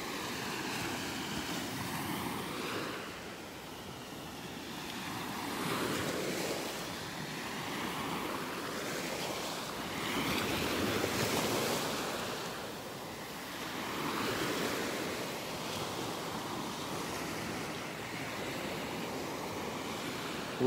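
Gentle ocean waves washing onto a beach in North Naples, Florida, on a morning walk, soft surges rising and falling every few seconds under faint wind, with no talking.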